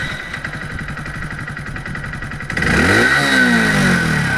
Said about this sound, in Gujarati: અમારે ખાલી આમ હાથ મૂકતા બાઈક ચાલુ થઈ ગયું